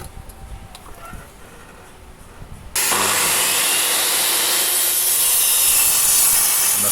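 Pallet wood is hand-sawn to cut a leg for a daybed: after a few seconds of quiet handling, loud continuous rasping saw strokes start abruptly and carry on steadily, close up with no talk.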